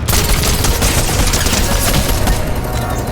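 Rapid, dense gunfire crackles loudly and continuously through a video game firefight, sharp shots overlapping in a steady barrage up close with no pauses.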